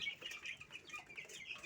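Steady chorus of young native chicks chirping and clucking at close range while they peck at freshly poured feed in their feeders, dense overlapping peeps with no voices.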